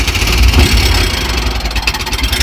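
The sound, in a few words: scooter engine starting and idling roughly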